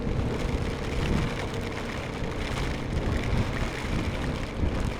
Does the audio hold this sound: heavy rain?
yes